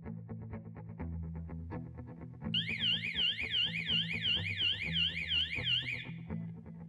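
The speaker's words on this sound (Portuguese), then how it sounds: "quando ocorrer uma detecção de movimento na câmera 1, o sinalizador audiovisual será acionado" A loud electronic audiovisual alarm siren, triggered by camera motion detection, wails in a rapid up-and-down warble, starting abruptly and running steadily for several seconds over a low hum.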